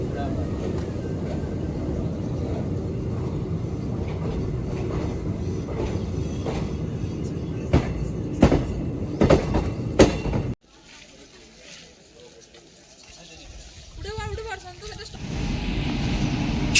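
An express train rushes past on the adjacent line near Jafrabad station, a steady loud roar of wheels with sharp rhythmic clacks before cutting off abruptly; faint talk in the background.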